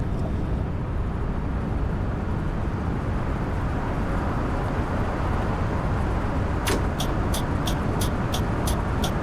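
Interior of a VDL Futura coach merging onto the motorway, a steady broadband road and engine rumble, with a regular series of sharp clicks from the indicator ticking near the end.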